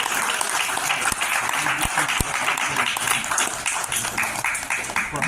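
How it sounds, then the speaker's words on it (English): Steady applause from a comedy audience, dense clapping sustained throughout at an even level, with a few sharper individual claps standing out. "Y'all clap it up for him."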